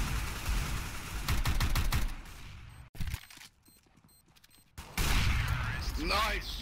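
Gunfire in a CS:GO match, a flurry of sharp rapid shots followed by a quieter lull and another burst, with players talking over it.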